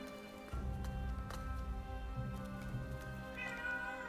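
A house cat meows indoors, its calls set against a steady, tonal musical backdrop that runs throughout.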